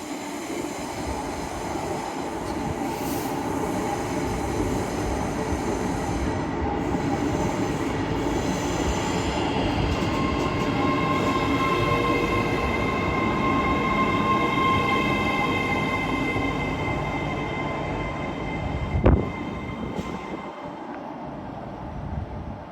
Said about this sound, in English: EMR Class A10 Aurora. Not sure where this is coming from. A1006.